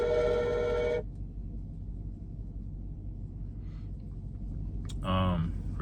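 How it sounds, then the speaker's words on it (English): A telephone rings with one electronic burst at the start, then a low room rumble, then a second shorter ring near the end. "We had a phone call somehow in the middle of that."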